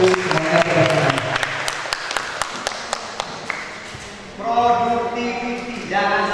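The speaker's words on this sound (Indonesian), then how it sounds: "Terima kasih Mas Nana, tepuk tangan." An audience at a business talk gives a round of applause. The clapping is loud and continuous with sharp individual claps, then fades and gives way to someone speaking.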